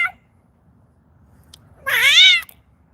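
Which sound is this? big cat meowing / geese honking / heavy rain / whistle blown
big cat meowing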